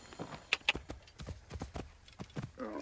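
Horse hooves clip-clopping on a ride in Assassin's Creed Origins, a steady rhythmic series of moderately loud hoofbeats with no talking.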